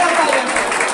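Steady applause from a school audience rewarding a correct answer in a quiz competition between student groups, continuous dense clapping throughout, fairly loud and close.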